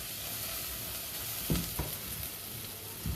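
Onions frying in a pan for roasted parsnip soup, a soft, even sizzle with a few brief clatters of stirring, fairly quiet and heard alone without any talking.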